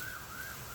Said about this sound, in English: All I hear is sirens.